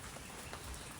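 Light rain falling again outdoors on muddy ground, a soft steady patter of scattered drops with no voices.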